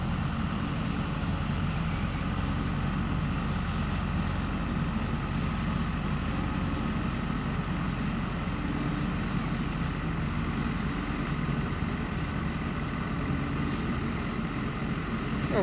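An IHC tractor engine running steadily while driving a mulcher outdoors, a continuous low drone with a constant hum and rumble throughout, loud and close, with no talk.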